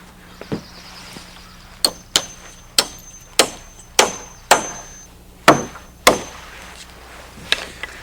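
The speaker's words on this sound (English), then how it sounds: "we nail in a permanent sway brace" Hammer blows nailing a wooden sway brace to a roof ridge during roof framing: about ten sharp, ringing strikes in a steady, unhurried rhythm, close and loud over a quiet background.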